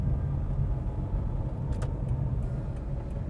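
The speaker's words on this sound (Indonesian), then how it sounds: "Dari mulai suara mesinnya, suara kolong, ini bener-bener masih kedengeran banget." Toyota Agya 1.0 compact car idling with the air conditioning on, a steady low engine hum and faint rumble heard close up from inside the cabin, with a few light rattles, no talk.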